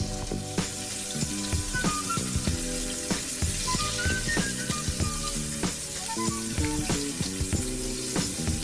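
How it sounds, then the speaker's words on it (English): Pork chops brown in a frying pan, giving a steady soft sizzle under louder background music with rhythmic beats. "After my pork chops are in the pan, I'm gonna let them get nice and brown and golden on both sides."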